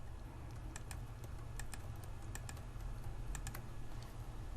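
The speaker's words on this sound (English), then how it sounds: "Going to click once, arrow key ahead, click again" Keyboard arrow keys and mouse buttons click in short, irregular bursts of crisp taps over a low steady hum, each press sharp and close.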